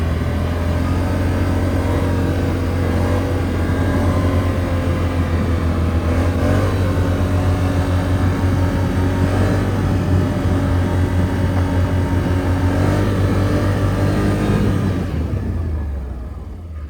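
Can-Am Outlander 650 ATV engine idles loudly and steadily up close, with a strong low drone and a few throttle blips, then eases off near the end.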